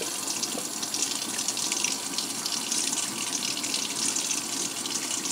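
Tap water runs steadily from a kitchen faucet into a measuring cup while water is measured out for cooking, a continuous close hiss with no talking.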